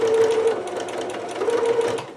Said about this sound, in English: make sure to sew over that pin if you can before you take the pin out